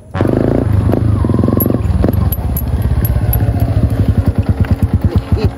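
A faulty motorcycle engine runs loud and close, revving at first and then settling into a rough, pulsing idle. Faint voices can be heard underneath.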